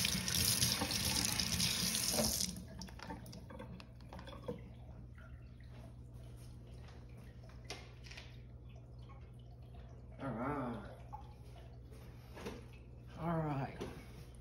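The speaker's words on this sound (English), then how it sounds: "Let's rinse off the newspaper off, that way it won't be floating in my tank." A kitchen tap runs hard for a couple of seconds as newspaper is rinsed off in a sink, then cuts off, leaving quiet drips, light splashes and handling sounds.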